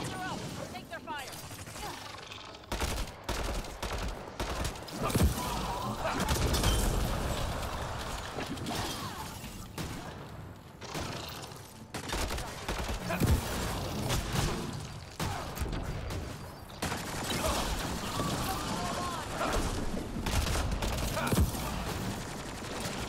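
Enemy gunfire in the Mass Effect Andromeda video game, with dense, sustained bursts of shots and impacts running throughout, loud and busy, mixed with game effects and a voice talking over it.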